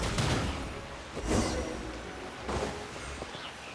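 Musket gunfire in Genshin Impact: three sharp shots spaced about a second apart, each a loud crack with a short boom and tail, over a faint game background.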